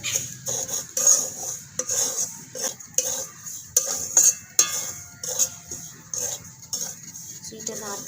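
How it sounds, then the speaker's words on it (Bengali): Semolina is dry-roasted in a pan and stirred steadily, producing a close, rhythmic series of scraping and rasping strokes against the metal with short pauses between them. "সুজিটা ভালো করে নেড়ে নেবো খুব বেশি ভাজবো না"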